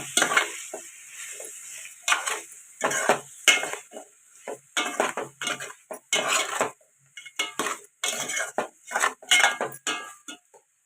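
Eggplant curry with dried snails stirred in a pan, a busy run of scraping and clattering spoon strokes against metal, close and loud, with brief pauses between bursts and a faint sizzle underneath.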